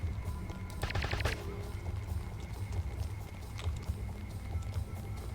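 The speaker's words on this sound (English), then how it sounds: "someone's shooting at me" Gunfire in Deus Ex Revision crackles as a quick burst of sharp shots, followed by scattered lighter reports over a low steady rumble of game ambience.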